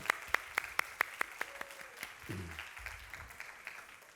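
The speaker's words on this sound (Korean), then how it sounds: "우리 다시 한번 또 환영하는 박수 올려드리겠습니다." A short run of hand claps from a church congregation during a Sunday service, about eight evenly spaced sharp claps, fairly quiet and indoors, fading into low room noise.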